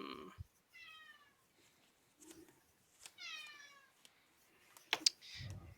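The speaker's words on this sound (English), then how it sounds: "Your cats are a little hungry there, Scott." A house cat meows repeatedly for attention, several drawn-out rising cries with short pauses between them, fairly close, ending with a brief clatter and a low noise.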